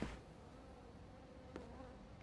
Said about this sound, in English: Oh, I can hear flies.